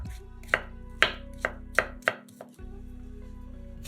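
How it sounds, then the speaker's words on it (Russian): Champignon mushrooms being chopped into pieces with a knife on a cutting board, about seven sharp, close knocks at an uneven pace over steady low background hum. "500 грамм шампиньонов моем, разрезаем пополам и нарезаем произвольными кусочками."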